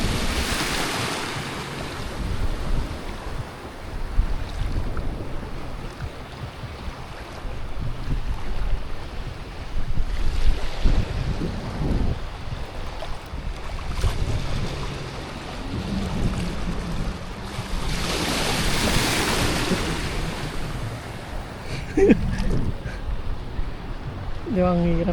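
Ocean waves crossing near a rocky provincial shore surge and break in a steady, loud wash, with gusts of wind buffeting the microphone and voices talking over it.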